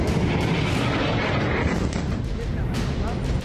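Dense, continuous rumbling blasts from airstrikes on Lebanon, heavy low booms blending into a sustained roar with a voice talking over them.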